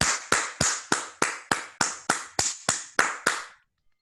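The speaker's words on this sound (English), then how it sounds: "Maybe let's applaud everyone first" Eleven steady, evenly spaced hand claps come through close and crisp from an online meeting participant, then stop, leaving near silence with no voices.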